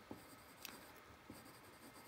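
A chunky graphite stick drawing thin lines on paper, giving faint dry scratching strokes with a few soft taps, quiet and close with no speech.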